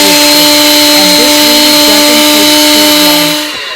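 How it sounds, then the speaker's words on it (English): A blender pulverizing oatmeal for atole, a very loud, steady high motor whine up close that cuts off near the end. "I'm going to put it in my blender cup and I'm going to blend it completely"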